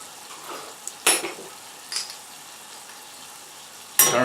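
Cumin seeds, cardamom and ground spices sauteing in a pan for chickpea curry: a faint, steady sizzle with a few sharp bursts of stirring or sputtering, no voices.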